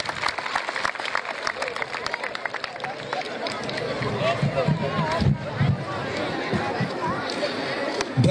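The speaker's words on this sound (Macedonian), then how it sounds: "еден аплауз за нашите гости со бели капи" Audience at a carnival masquerade ball clapping for guests in white caps, a loose mix of steady applause and crowd chatter that swells toward the middle before carrying on busily to the end.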